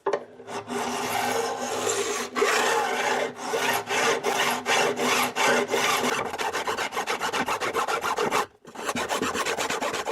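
Fret edges on a classical guitar are beveled with a file, producing loud, close rasping strokes in a steady back-and-forth rhythm, with a brief pause near the end before the filing resumes.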